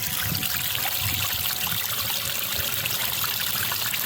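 Water trickles and splashes steadily down a rock waterfall in a pondless backyard water feature with moss and lichen, giving a close, continuous babbling wash without any voices.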